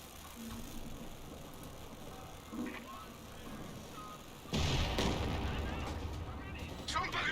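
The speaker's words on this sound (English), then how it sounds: "I heard an explosion there" An explosion goes off in the World War II strategy game Company of Heroes 2, a sudden loud blast rising over low battlefield rumble and distant gunfire, with a commentator talking throughout.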